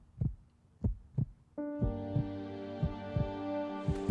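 A deep heartbeat sound effect: three slow, isolated low thumps, then a sustained layered musical drone swells in while the thumping pulse keeps a steady rhythm beneath it, close and moderately loud with no voices.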